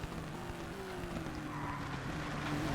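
A race car in ToCA Race Driver 2, running in the Pan American XKR Series, braking hard as its loud, steady engine note winds down in pitch, with a faint hiss of tyre scrub underneath and no voices.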